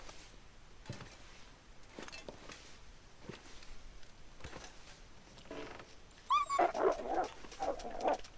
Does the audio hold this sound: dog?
yes